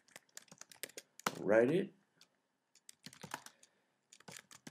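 Quick, light keystrokes on a computer keyboard tap out a short PHP script in bursts, with a brief spoken phrase breaking in partway through.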